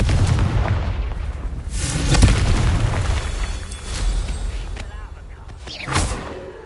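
Confringo blasting curses explode in Hogwarts Legacy on PS5, a dense run of loud, booming blasts with rumbling, crackling tails that swell and fade across the whole stretch.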